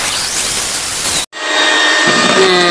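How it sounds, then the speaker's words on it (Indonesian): An electric mixer beating sponge cake batter of eggs and emulsifier until thick and pale: a loud, steady whirring hiss, broken by a brief dropout midway before resuming at the same level. "Selanjutnya ini di mixer sampai mengental putih berjejak sekitar"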